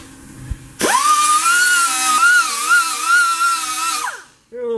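An 80 grit disc grinding metal while working on a 1969 Chevy C10 truck, a loud, steady high-pitched whine that starts abruptly, holds for about three seconds with slight pitch wavering, then spins down.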